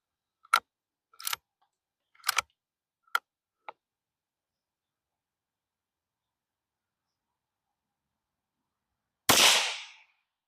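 A Savage Mark II rifle chambered in the new .21 Sharp rimfire cartridge fires one sharp, loud report near the end, after a few short, light clicks and taps spaced across the quiet.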